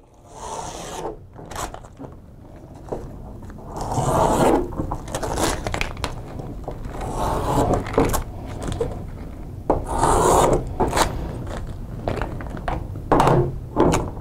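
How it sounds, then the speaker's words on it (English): A squeegee is pressed across a fabric wall graphic to set it in place, giving repeated close rubbing and scraping strokes with occasional soft thunks, steady and moderately loud with no talking. "I can squeegee it into place and then trim it up for the customer."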